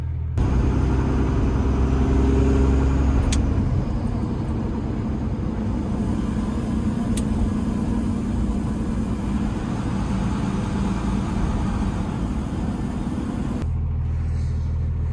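A 24v Cummins diesel truck being checked for an exhaust brake problem drives along a road with a steady, heavy low rumble. The sound is loud and continuous from inside or nearby, then eases off near the end.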